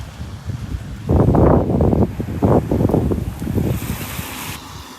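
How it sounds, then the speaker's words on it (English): Wind gusting at Vanderbilt Beach in North Naples, Florida, during Hurricane Elsa, as a rough, buffeting roar against the microphone that surges loudly after the first second and eases off toward the end. "The wind has finally picked up here."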